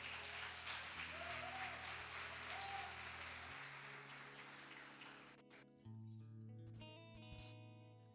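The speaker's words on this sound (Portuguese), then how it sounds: "vamos dar uma salva de palmas para os meninos aí" Church audience applauding, a dense wash of clapping for about five seconds that fades out, followed by sustained musical tones from an instrument or effects unit.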